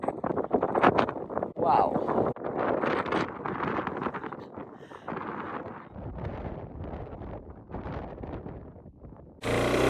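Strong wind batters the microphone at a scenic roadside viewpoint on the way to Zaruma, a steady loud rumbling roar that surges and drops, with a brief exclaimed word from a person partway through.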